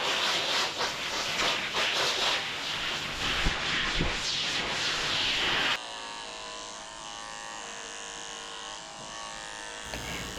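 Electric pet clippers fitted with a 7 blade buzz steadily as they trim a Yorkie's coat short, loud and close for several seconds before dropping to a quieter, thinner hum with no talking.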